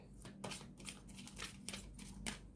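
Tarot cards being shuffled by hand, giving quick, soft riffling bursts and flicks in an irregular rhythm, close and quiet.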